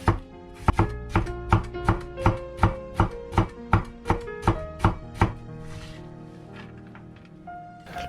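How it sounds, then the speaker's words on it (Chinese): A kitchen knife slices a cucumber on a cutting board for a noodle breakfast dish: about a dozen sharp, evenly spaced chops land close by, then give way to quieter trailing sounds. "黄瓜先切片，再切丝，放盘里备用。"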